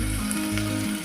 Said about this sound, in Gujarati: કાંદાને આપણે તેલમાં ચડવા દઈશું.